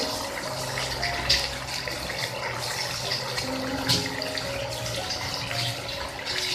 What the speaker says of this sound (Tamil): இப்ப பாருங்க, நல்லா தளதளன்னு கொதிக்கிற சவுண்டு கேக்குது.